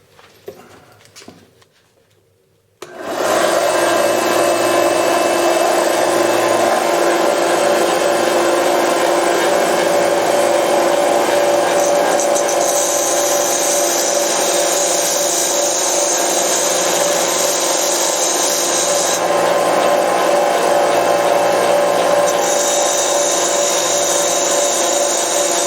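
A Central Machinery 1x30 inch benchtop belt sander starts up and runs steadily while a chisel is sharpened against the belt, giving a loud continuous whine and rasping grind with faint ticks before startup.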